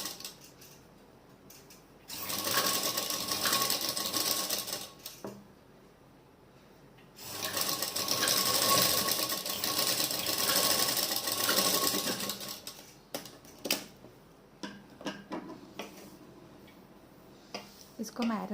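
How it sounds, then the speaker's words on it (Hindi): A sewing machine stitches a seam on a baby dress, two long runs of rapid, steady whirring and clatter, close and fairly loud, followed by scattered clicks and handling sounds. "अब हम इसको पलट देंगे इस तरह से और 1/2 इंच पे सिलाई लगा देंगे"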